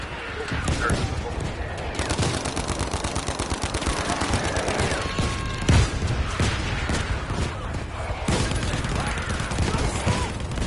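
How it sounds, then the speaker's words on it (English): Battlefield V gunfire rattles nonstop in dense loud volleys, with a grenade blast standing out around the middle and voices shouting beneath the battle noise. "That's a grenade!"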